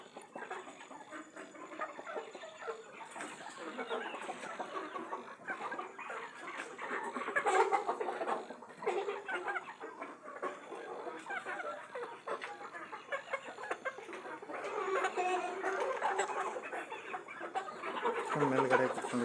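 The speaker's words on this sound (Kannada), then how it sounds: "ಕೆಲವು ಕೋಳಿಗಳು ಆ ಕಡೆ ಅಲ್ಲಿ ಮೂಲೆಯಲ್ಲಿ ಇದೆ." Native country chickens cluck and call continuously in a low-cost farm compound, a dense mix of near and farther birds with no talk.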